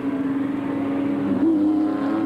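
A Formula Holden race car at the 1990 Australian Grand Prix drives by with a loud, sustained engine drone and a slight pitch shift as it passes.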